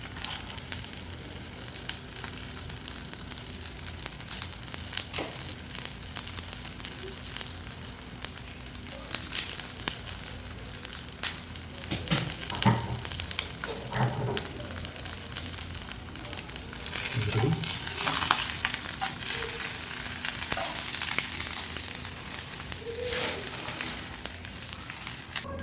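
Onion fries in a pan for a wheat bread breakfast, a soft steady sizzle with scattered crackles and scraping clatter partway through, close and moderately quiet.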